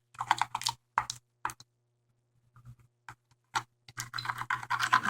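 Tape being rubbed down firmly over perler beads, a series of short dry scuffing bursts that come in quick clusters with brief pauses between, close and fairly quiet.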